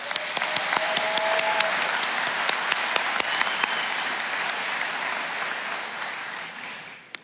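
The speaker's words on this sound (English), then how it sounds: "If you would please give your families and friends a round of applause." A large graduation audience at the Newport News Shipbuilding Apprentice School ceremony claps for families and friends, a steady wash of applause from many hands that fades near the end.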